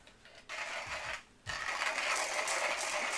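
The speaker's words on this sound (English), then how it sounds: "Hopefully 10 grams doesn't take this hand grinder too long." A hand coffee grinder crushes beans in raspy, ratcheting bursts, a short grind, a brief pause, then continuous close grinding with no talking.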